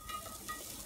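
Onions just added to a heated pan give off a faint, steady sizzle, a soft broadband hiss that stays fairly even throughout.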